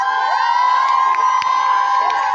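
A crowd at a college mushaira and debate event in Sargodha cheers and shouts loudly and continuously, with sustained voices chanting together in a strong, steady roar.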